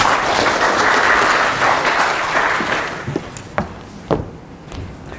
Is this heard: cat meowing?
no